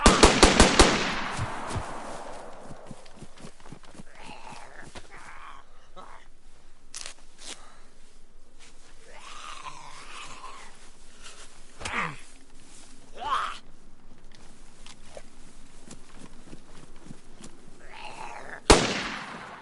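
Sharp gunshots in DayZ, a rapid loud volley at the start followed by scattered isolated shots and one loud crack near the end, with quiet talk in between.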